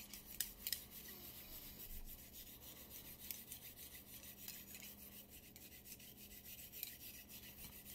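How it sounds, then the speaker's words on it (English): Bore brush scrubbing back and forth inside the barrel of a Taurus 709 Slim pistol during cleaning, quiet close gritty rasping strokes repeating steadily. "just start scrubbing. Make sure you go all the way through, get some nice good scrubs in there"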